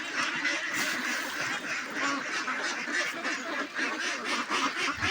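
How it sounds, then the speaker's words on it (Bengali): A flock of domestic ducks quacks steadily and loudly while feeding on paddy grain, a dense overlapping chatter of many birds close by, with no speech. "আমার হাঁসগুলো ভালো দান খায়"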